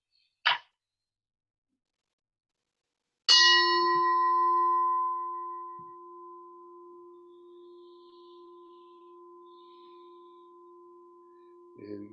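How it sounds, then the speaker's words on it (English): A Buddhist temple bell struck once before a chant: a brief tap, then a single bright clang that rings out in a long, clear sustained tone and slowly fades, with a soft knock near the end. "1 second while I ring the bell."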